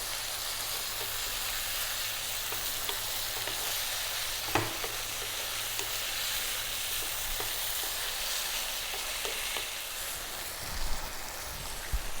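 Lamb curry with onions frying in a pan over fairly lively heat, a steady close sizzle throughout, broken by an occasional clack of stirring and a brief louder scrape near the end.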